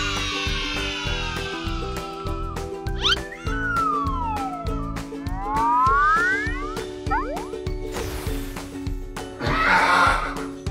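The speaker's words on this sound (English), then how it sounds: "Donkey." A farm donkey brays with loud, stretched, wavering calls that rise and fall, set over cheerful children's background music with a steady beat.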